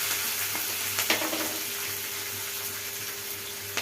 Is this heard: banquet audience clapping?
no